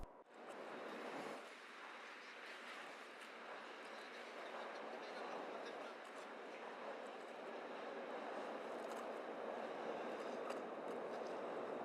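A commuter train rolling past on the rail line through Stockholm's old town island, a steady broad rumble and hiss heard from some distance, fairly faint and unchanging across the whole stretch.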